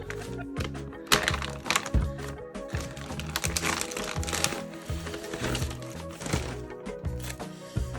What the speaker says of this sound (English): They come in a plastic bag, 12-ounce gloves.